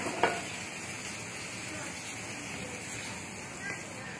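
Beans and holy basil stir-fry in a hot pan with a steady, even sizzle throughout, a soft spatula scrape near the start, the frying close and moderately loud with no voices over it.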